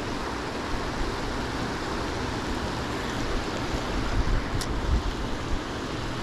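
Water running down into a bass fishing spot, a broad steady rushing wash with light wind buffeting and a few soft bumps, continuous and close with no voices.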